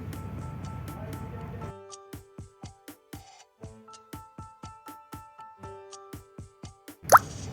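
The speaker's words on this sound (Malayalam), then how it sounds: "ഇനി നമുക്ക് ഇതൊന്ന് നല്ലവണ്ണം മിക്സ് ചെയ്തെടുക്കാം" Snack ingredients with half a teaspoon of chili powder are mixed by hand in a bowl, making a steady rhythm of soft, close plops and taps. The sound starts after a moment of rustling and ends with a louder knock.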